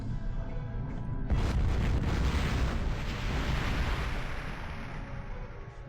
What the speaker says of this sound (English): It's all the explosions going on.